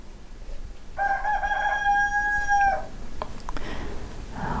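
A young rooster crows once, a long clear cock-a-doodle-doo lasting about two seconds, fairly close, with a quiet outdoor background before and after.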